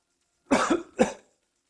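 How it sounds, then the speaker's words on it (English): Two sharp coughs in quick succession, close and fairly loud, the second shorter than the first, with silence on either side. "It's making me cough like I just took a hit of weed."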